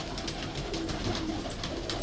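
A female Lakhi pigeon gives a couple of low, soft coos close by over a steady background hiss.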